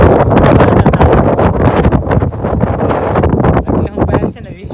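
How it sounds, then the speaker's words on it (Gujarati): Strong wind gusts over open farmland, buffeting the microphone with loud, roaring rumbles that rise and fall, while a person speaks beneath the noise. "પવન એટલો બધો ફેંકે છે"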